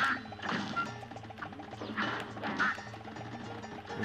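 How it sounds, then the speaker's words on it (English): Cartoonish ducks quack repeatedly in the Cuphead video game amid busy game sound effects and music, with the quacks coming in short bursts at a moderate level and no voices. "Okay, I'm trying to shoot these ducks,"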